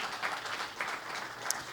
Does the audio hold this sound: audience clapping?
yes